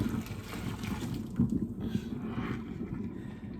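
Water poured from a cooking pot into a kitchen sink, a steady close splashing rush that runs continuously for a few seconds.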